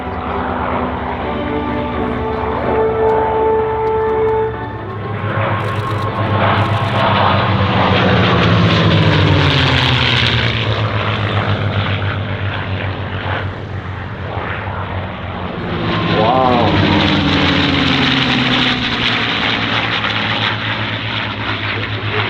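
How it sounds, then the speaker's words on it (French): A TF-51 Mustang propeller warplane making a high-speed pass at an airshow, its loud piston-engine roar building, sweeping past with a pitch drop and fading, then rising again. "Mad Max pour le passage à haute vitesse."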